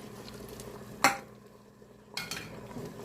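A spoon stirs dhaba-style chana dal fry in a pan with green coriander and chopped green chilies: two short, close scraping strokes about a second apart, the first sharp and loud, over a faint kitchen background.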